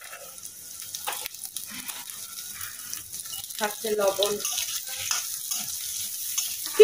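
Onion, green chili and yardlong beans frying in a pan give a light sizzle that builds gradually from faint to moderate, under brief speech.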